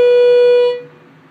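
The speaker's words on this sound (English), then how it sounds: "this is where the chime is, watch. You guys wanna hear the chime, right?" A Schindler HT elevator chime in a school residence building, a single clear electronic tone, loud and close, that rings briefly and then cuts off, leaving quiet room hiss.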